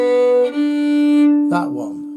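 Fiddle plays the opening bar of a tune in G, a few sustained bowed notes with a clear steady tone, close and fairly loud, alone without talk.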